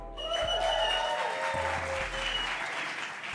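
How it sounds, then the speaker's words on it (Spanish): An audience at a church gathering applauds the hosting pastors with a full, steady round of clapping that carries loud and even throughout, with a faint low hum underneath. "¿qué tal si me ayudas a darle un aplauso a nuestros pastores de casa"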